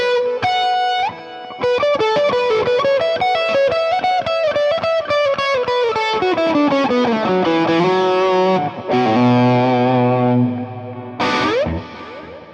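Kurzweil Rumour rack effects unit processing a distorted, sustained synth or guitar tone drenched in reverb, with a pitched line sliding downward through stuttering repeats, a brief dropout, then a low droning swell and a sharp burst near the end.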